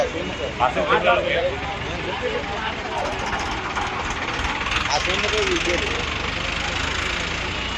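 A lorry engine runs at idle with a steady mid-pitched rumble and faint knocking, while voices talk over it throughout.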